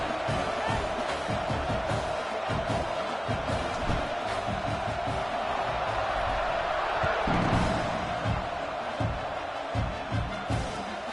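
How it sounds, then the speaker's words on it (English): A football stadium crowd at an Oklahoma vs Notre Dame game keeps up a steady, dense roar and murmur before a kickoff, with scattered shouts and thumps rising from the mass of noise throughout. "this crowd is buzzing after that last score"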